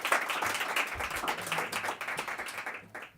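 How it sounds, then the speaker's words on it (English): Audience at a candidates' forum clapping for the candidates after a lightning round, a brisk, fairly close burst of many hands that fades toward the end. "let's give our candidates a big round of applause"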